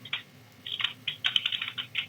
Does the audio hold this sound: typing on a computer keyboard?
yes